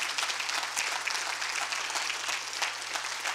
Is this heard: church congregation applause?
yes